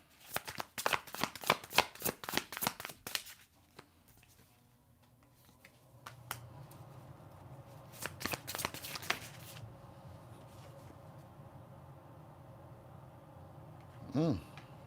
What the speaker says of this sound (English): These cards are just flying.